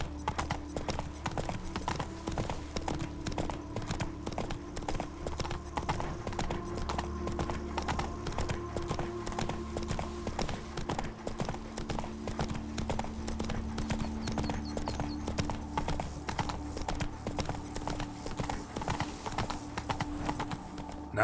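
Hoofbeats from Roach, the horse in The Witcher 3, keep a fast, regular clip-clop rhythm for the whole stretch, loud and close, with a faint neigh and a steady hum underneath.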